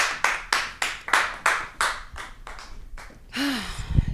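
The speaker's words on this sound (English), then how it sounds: "Give her a round of applause, guys." Hand claps from a small studio audience on a dating game show, about ten sharp, evenly spaced claps with a brief squeak near the end, fairly close and loud.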